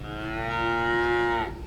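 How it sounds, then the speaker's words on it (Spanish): A dying cow in an open field gives one long, drawn-out moo, loud and steady with a strained tone before it cuts off, alone with no voices. "una última vaca que moría."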